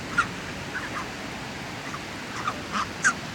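Bar-headed geese honk in short nasal calls, several scattered distant cries and a few closer ones over faint outdoor background noise, no talking.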